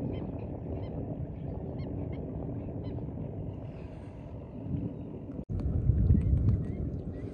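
Outdoors, a flock of geese takes off, honking in scattered, fairly distant calls over steady wind-like noise, ending in a louder rustling burst.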